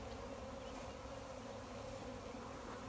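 Honey bees buzz around beehives in a continuous, close, even drone that stays level from start to finish, with no talking.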